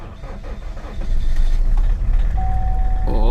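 A diesel Chevrolet Cruze struggling to start, its engine churning and rumbling loudly and unevenly, with a steady electronic tone appearing near the end.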